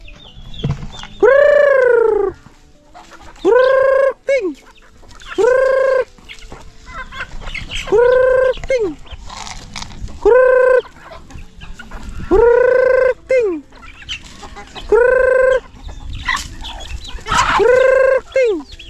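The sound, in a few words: native chickens clucking and crowing on a farm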